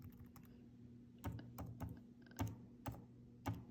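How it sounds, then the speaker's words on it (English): A search being typed on a computer keyboard: several close, crisp key clicks in quick uneven clusters over a faint steady hum, with no talking. "let's type in population of Germany"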